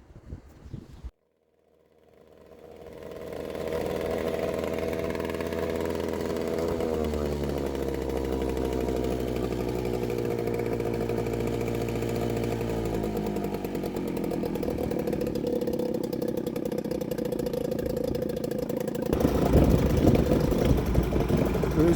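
A Mercury 4hp two-stroke outboard engine is pull-started, catches after a brief pause, and then runs at a steady, buzzing idle up close, with a slight rev rise near the end.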